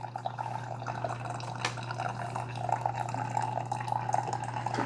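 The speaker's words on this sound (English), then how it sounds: "we want to make sure the coffee is only coming out the bottom" Coffee dripping steadily from a Cuisinart Coffee Center Brew Basics 12-cup coffee maker through a reusable K-cup, a soft continuous trickle with light splashing over a low steady machine hum, close and fairly quiet, with no talking.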